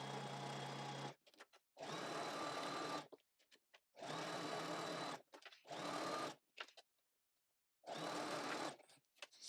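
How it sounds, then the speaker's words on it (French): A sewing machine runs a straight-stitch seam about 1 cm in on a fabric tote bag, in five whirring bursts of one to two seconds separated by short quiet pauses, close and clear. "on va venir coudre à 1 cm"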